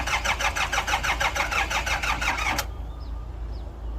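A Komatsu PC30-7 mini excavator engine cranking and running in a fast rhythmic chug for about two and a half seconds, then cutting out abruptly and leaving a quiet low rumble with faint squeaks.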